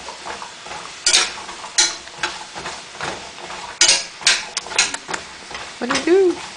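Walnuts are stirred and toasted in honey in a pan, with repeated scraping, clattering strokes close up that come in uneven bursts and a brief voice near the end.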